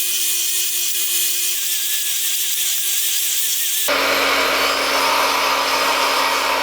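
A miter saw cuts wood for a bowl-making jig, starting as a steady motor hum with faint ticking, then turning into a louder, rougher, broadband cutting roar partway through.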